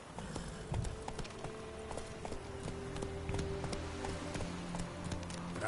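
Roach, the horse from The Witcher 3, gallops in a quick, steady clip-clop of hooves, close and continuous under faint game ambience, with no speech.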